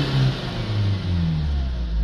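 Car engine revving up during an exhaust back pressure sensor check, loud and close, with the pitch rising and falling in a sustained roar.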